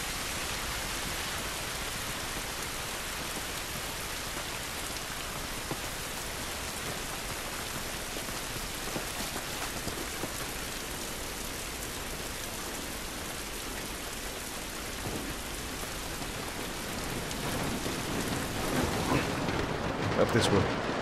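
Rain falls outdoors in the video game The Last of Us, a dense steady hiss of drops that swells louder near the end.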